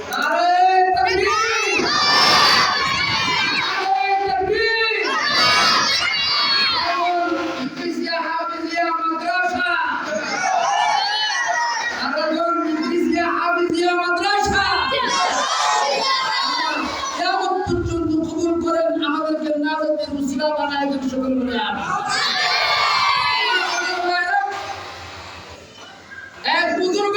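A large crowd at a madrasa religious gathering shouts Allahu Akbar back in loud, repeated unison waves after a takbir call, chanting voices swelling and fading near and full over the whole stretch.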